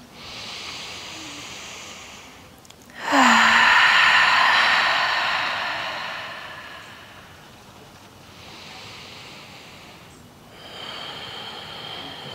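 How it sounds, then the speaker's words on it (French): Slow, deep yoga breaths drawn in and out during a vinyasa session, a soft airy hiss swelling into one loud long exhale, then fainter rising and falling breaths, close and alone. "Continue d'allonger tes inspires et tes expires, des respirations fluides et douces."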